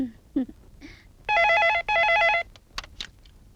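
Two loud bursts of an electronic telephone ring, each with a fast warbling trill, separated by a short gap, sounding in a quiet household room with faint rustles and clicks around them.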